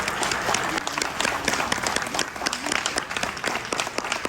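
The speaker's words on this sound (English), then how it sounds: "Let's give our awardees a round of applause." An audience at a Buffalo Soldiers award banquet breaks into sustained applause for the awardees, a dense, steady patter of many hands clapping in a room for several seconds.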